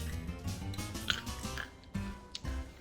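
Crunchy oven-roasted chickpeas, dry and unseasoned, rattle and crackle in a few quiet, irregular crisp bursts close by.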